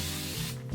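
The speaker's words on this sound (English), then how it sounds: "spray like the perimeters of my hair with water" A plastic spray bottle misting water onto the edges of natural 4c hair, a short continuous hiss lasting about half a second, close and fairly loud.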